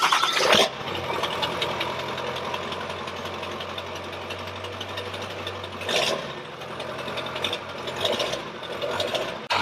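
Ford 7.3 Powerstroke diesel engine with relocated exhaust pipe ends starting up and idling: a steady rumbling idle with a low drone, a brief surge around six seconds, heard close with no talking.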